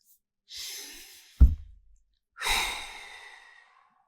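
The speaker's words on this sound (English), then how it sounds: "Take 3 breaths." A person takes a slow, deep breath in, then after a brief bump lets out a long, audible sighing exhale, close and alone in a quiet room.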